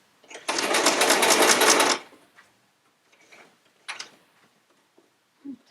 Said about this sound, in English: just butt it up to the seam and start sewing